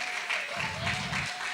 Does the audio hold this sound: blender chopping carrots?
no